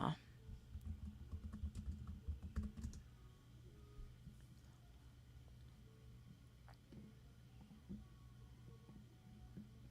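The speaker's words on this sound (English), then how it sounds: "My keyboard is over here." Fingers patter on a computer keyboard in a quick burst of faint clicks that fades into sparser taps, quiet and close in a calm indoor space.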